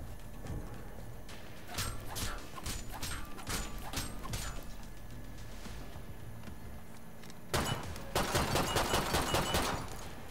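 Rapid bursts of gunfire from the Scalpel gun in a video game, a run of sharp shots spaced through the first half, then a denser, louder volley near the end, with no talking.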